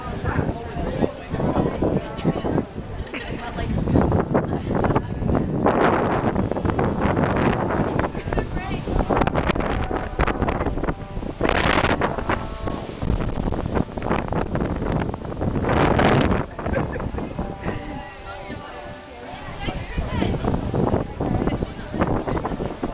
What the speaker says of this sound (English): It is like unbelievably windy.